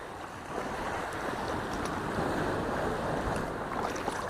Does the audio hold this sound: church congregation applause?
no